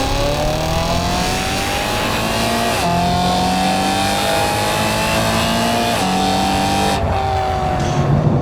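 A BMW E92 M3's V8 engine revs hard and continuously, pitch climbing through gear changes with brief dips, loud and close, with no voices.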